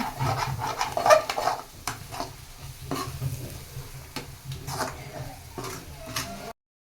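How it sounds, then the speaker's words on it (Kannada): Egg cooking in a pan on a low flame is stirred with a utensil, giving soft scraping strokes and light repeated clicks over a gentle background sizzle, close and moderately quiet. "ಮೊಟ್ಟೆ ಹಾಕಿದ್ಮೇಲೆ ಉರಿನ ಸಿಮ್ಮಲ್ಲಿ ಇಟ್ಕೋಬೇಕು, ಇಲ್ಲಾಂದರೆ ತಳ ಹಿಡಿದಿರುತ್ತೆ"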